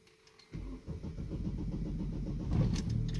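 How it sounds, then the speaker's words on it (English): An Opel/Vauxhall car with a camshaft sensor fault (P0340) cranks and fires up, settling into a steady, close engine rumble. "We'll start up the car."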